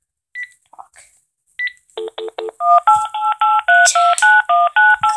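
Telephone keypad tones dial Freddy Fazbear's Pizza number: a few scattered beeps, then a steady run of about a dozen loud, evenly spaced dual-tone presses, close and clear with little else around them.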